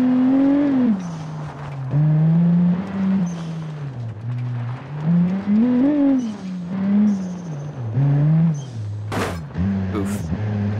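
A car in BeamNG accelerates hard off-road, its engine note climbing and dropping through repeated revs, with a couple of sharp knocks from rough terrain near the end.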